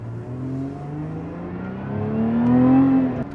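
A Lotus Emira's Toyota-sourced 3.5-liter Edelbrock supercharged V6 accelerating, the engine note rising steadily in pitch, briefly easing, then climbing again louder and close as it pulls through the revs.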